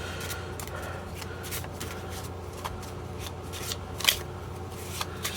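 A deck of race cards is shuffled by hand in soft, close riffles and flicks, with a sharper snap near the end.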